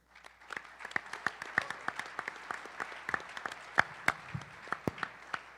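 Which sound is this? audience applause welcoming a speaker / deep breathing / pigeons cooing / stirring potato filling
audience applause welcoming a speaker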